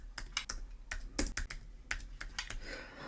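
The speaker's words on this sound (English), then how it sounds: "So I type the command to open the file in Nano editor" Keystrokes on a Mac computer keyboard as a terminal command is typed, a quick irregular run of crisp clicks at close range with no talking.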